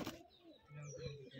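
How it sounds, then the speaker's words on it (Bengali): A Rajshahi Giribaz pigeon gives a short low coo inside a loft, faint and close, with a brief rustle at the start and quiet background. "ওই যে একটা নট ডাকছে আপনারা দেখতে পাচ্ছেন পিলং কালারের"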